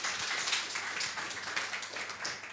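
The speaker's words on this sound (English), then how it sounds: "please give Kent another round of applause" A conference audience gives a round of applause after a technical blockchain presentation: a dense, steady patter of many hands clapping in a hall, sustained throughout with no talk over it.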